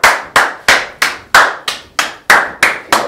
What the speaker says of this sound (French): On devrait applaudir encore.